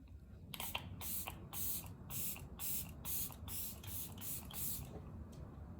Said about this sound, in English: let me just show you the mist on this thing.